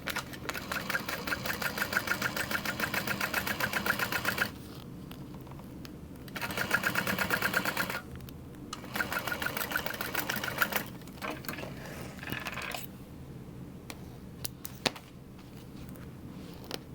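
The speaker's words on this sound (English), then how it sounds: "I'm going to start by back stitching." Sewing machine back stitching a Linda sling, running in several steady bursts of rapid mechanical stitching separated by short quiet pauses, close and clear with no talking.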